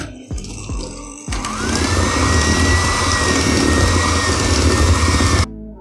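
An electric mixer whirs loudly and steadily, blending flour, cocoa powder and salt into brownie batter, after a few opening knocks and clatters, then cuts off abruptly at the end.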